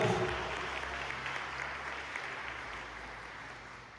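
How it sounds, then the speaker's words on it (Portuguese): A church congregation claps during a Catholic triduum service, a faint, even patter of many hands that continues unbroken for the whole stretch, without voices on top. "Podemos aplaudir a poderosa palavra de Deus"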